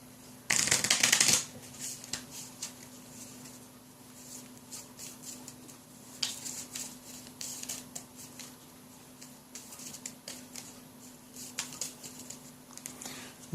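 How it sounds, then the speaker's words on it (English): A deck of monster cards from the Castle Ravenloft board game is shuffled in a close burst of riffling, followed by softer scattered taps and card handling on a table in a quiet room. "Next, the rest of the monster cards get shuffled."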